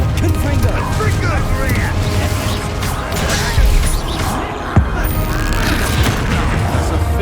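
Explosive Confringo spell blasts in Hogwarts Legacy, with heavy booming impacts over dense game combat noise and music, voices calling out spells throughout.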